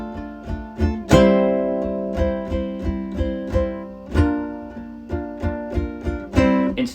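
A ukulele plays a simplified version of an intro, with plucked notes and strummed chords in a steady rhythm, close and clear, alone without any voices.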